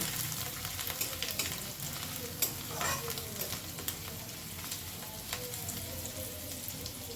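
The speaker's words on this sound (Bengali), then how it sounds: "হিং সব কিছু একসাথে খুব ভালো করে একটু নাড়াচাড়া করে মিশিয়ে নেব" Asafoetida and spices are stirred and mixed in a frying pan over a continuous soft sizzle, with occasional spatula scrapes and clicks rising above the steady hiss, close and unaccompanied by speech.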